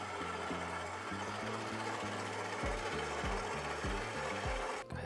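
An electric mixer runs steadily on low speed while cake batter is mixed, a continuous close motor whir with a rhythmic low churning pulse and no talking.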